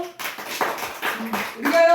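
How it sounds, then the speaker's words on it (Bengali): A group of children clap their hands at a birthday gathering, a brief burst of quick uneven claps with voices mixed in. "সবাই একটু হাততালি দাও"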